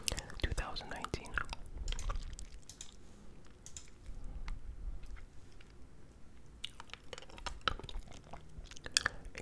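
Close, wet gum chewing and soft mouth sounds with whispering, an intimate ASMR recording of candy and gum with irregular smacks and clicks throughout.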